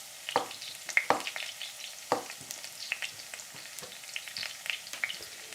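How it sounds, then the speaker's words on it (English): Mushrooms sauté in a hot pan as a sandwich topping, giving a steady close sizzle with scattered pops and crackles and a few sharper clacks of stirring. "Serena, I am going to saute the mushrooms."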